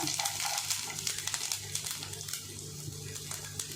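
Finely minced ginger frying in coconut oil along with mustard seeds and cumin, giving a steady close sizzle with light crackles throughout, no voices.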